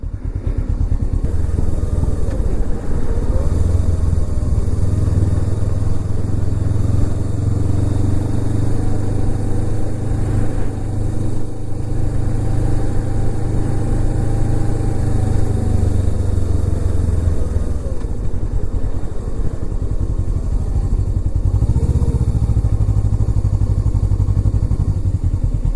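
A 2009 Suzuki GS500F motorcycle engine runs steadily near the mic, a continuous low rumbling idle with slight rhythmic clatter and a brief rev in the middle, with no talking.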